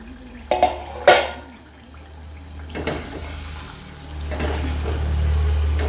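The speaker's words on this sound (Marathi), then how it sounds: "आता आपण झाकण काढून बघूया." The lid comes off a cooking pot of spicy home-cooked chicken curry. Two sharp metallic clanks open the clip, a softer knock follows, and then there is a low simmering, rushing background.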